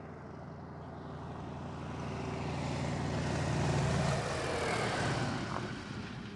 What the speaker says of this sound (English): Now he's taxiing back to our museum.